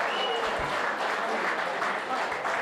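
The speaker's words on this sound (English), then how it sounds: "if you give her a round of applause, maybe it'll help" An audience breaks into loud, continuous applause, dense clapping sustained evenly from start to finish at a live Night With The Stars concert event.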